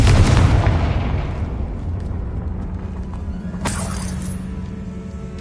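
A Confringo spell detonates in Hogwarts Legacy with a loud booming blast at the start that decays into rumbling debris, followed by a brief sharp crackle midway.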